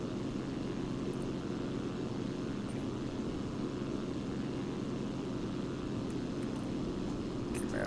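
A single-engine propeller aircraft in flight in X-Plane 11, a constant, close engine drone with a low throbbing rumble that holds steady and loud throughout.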